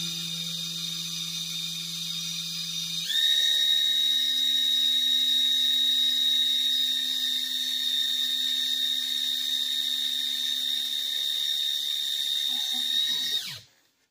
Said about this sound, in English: I use this little pump that goes on to an electric drill,